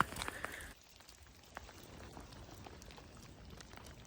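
A sudden light hailstorm over a Mediterranean food forest, with dense, steady pattering of small hailstones on surfaces, louder at first then settling into a continuous hiss of impacts.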